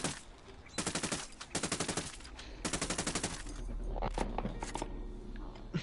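Rapid gunfire in a video game comes in several fast automatic bursts with short gaps between them, followed by a few louder single shots over a steady background rumble.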